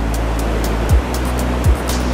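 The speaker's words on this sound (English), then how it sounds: "feeling the water as it's like flowing past me" Water flows past a person standing in it, making a steady, close rushing wash. Two brief low thumps break into the sound partway through, and no speech is heard.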